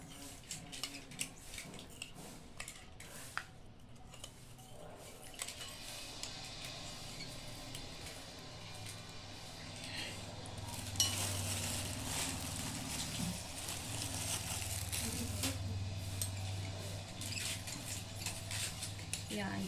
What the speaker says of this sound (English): Stir it properly.